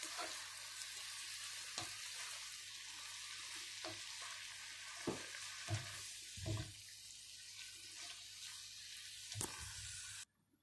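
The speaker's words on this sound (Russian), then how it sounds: "Нарезанную грудку добавляю к овощам. Овощи уже стали слегка мягкими. Все перемешиваю и продолжаю готовить под закрытой крышкой." Chicken breast and vegetables fry in a covered pan, a quiet continuous sizzle broken by several soft knocks and clatters, ending abruptly.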